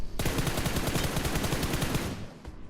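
Automatic gunfire in the mobile battle royale game BGMI: a loud, close burst of rapid, evenly spaced shots that starts abruptly, runs for about two seconds, then cuts off into a brief echo.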